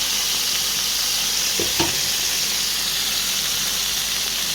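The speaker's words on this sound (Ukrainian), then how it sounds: "грудку я підсмажила" Chicken breast fries in hot oil in a pan, giving a loud, steady sizzle and hiss throughout, with a couple of brief clicks partway through and no talking.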